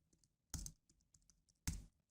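Computer keyboard typing: two quick bursts of clattering keystrokes, each a fast run of clicks, separated by softer isolated key taps in a quiet room.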